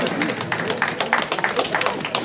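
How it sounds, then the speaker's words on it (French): Dancers in a French hall clap for themselves, a busy patter of many hands with sharp individual claps poking through, loud and close, with voices faintly mixed in. "vous pouvez vous applaudir"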